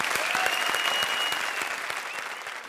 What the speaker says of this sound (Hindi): इन टीम्स के लिए जोरदार तालियां प्लीज